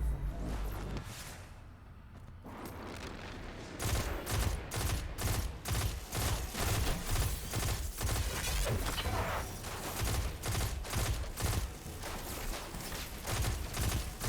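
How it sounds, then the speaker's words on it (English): Rapid hip-fired gunfire in the sci-fi shooter Destiny 2, a dense run of sharp repeated shots in quick bursts after a brief lull, close and fairly loud throughout. "Just kind of hip firing here."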